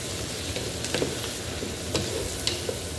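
Onions and dried raisins sautéing in a hot pan, a soft continuous sizzle with occasional scraping stirs, close and fairly quiet.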